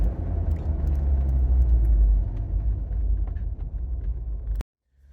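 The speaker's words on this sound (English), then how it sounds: "Definitely can hear a deeper rumble." A deep, throaty MagnaFlow Street Series axle-back performance exhaust rumble drones steadily from inside the car, low and full, then cuts off abruptly near the end.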